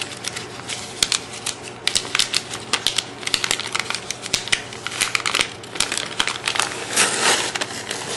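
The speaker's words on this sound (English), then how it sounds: "We're going to peel the backing away from it." Backing sheet peeled from clear adhesive contact paper during a vinyl-cutting craft session, giving a close, continuous crackly tearing and crinkling with dense rapid snaps, heard on its own.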